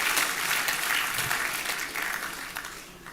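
At a graduation ceremony for an executive management course, an audience claps for a speaker in dense, sustained applause that starts strong and gradually thins toward the end.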